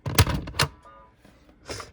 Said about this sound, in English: it ejects, and makes a hardware disconnect sound, of course.